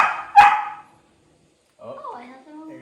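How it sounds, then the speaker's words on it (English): A puppy gives one sharp, loud yelp-like bark near the start, then goes quiet, and a person talks near the end. "There's the puppy in the background."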